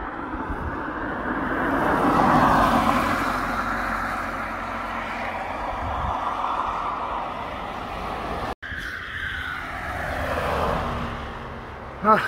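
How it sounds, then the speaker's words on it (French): Cars travel along a country road on a sunny Sunday in France, passing a walker on foot: a broad rolling whoosh swells and fades, then a second vehicle approaches, loud and close, ending in a sharp bump. "malgré le bruit des voitures qui se promènent quand même pas mal"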